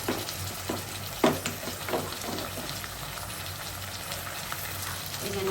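Ginger and garlic hit a pan of already fried onion, giving a steady close sizzle and crackle, with a few sharper spoon scrapes and pops along the way.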